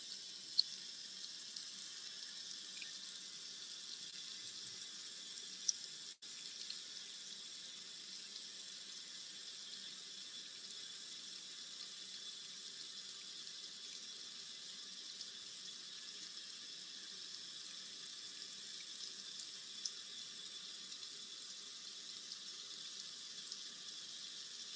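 GE GTW220ACW0WW top-load washer filling with water during a deep rinse, a steady faint hiss of running water that continues unchanged throughout, with no talk.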